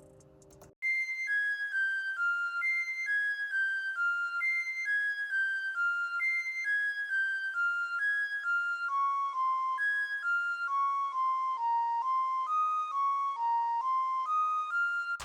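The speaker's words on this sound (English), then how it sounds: "Then I added this flute, and this is what the flute sounds like." Synthesized flute melody from an FL Studio hip-hop beat, a clean repeating pattern of sustained notes stepping gradually downward, bright and upfront with no drums, playing steadily after a short opening chord.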